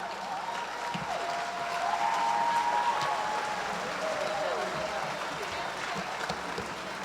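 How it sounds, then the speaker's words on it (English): Crowd at a high school graduation gives a sustained round of applause for the graduates, steady moderate clapping from a distance with faint voices mixed in. "Let's give a round of applause to our young men and all our graduates"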